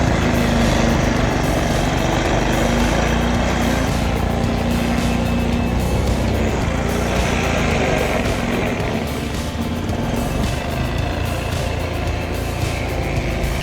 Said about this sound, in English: It is equipped with a circular cutting disc featuring multiple strong and sharp blades, making stump grinding easy.